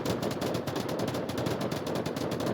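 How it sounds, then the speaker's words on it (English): Sustained automatic suppressive fire in the VR shooter Onward, a rapid, evenly pulsing rattle of shots that stays loud and close throughout. "Oaks with the suppressive fire."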